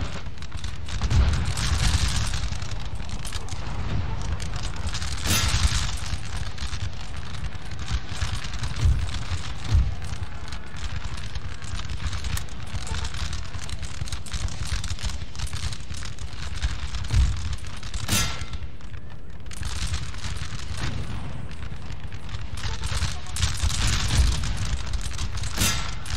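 Musket volleys crackle and boom across a Napoleonic battlefield in the strategy game Napoleon Total War, a dense, continuous rumble of distant gunfire with sharper reports standing out every few seconds.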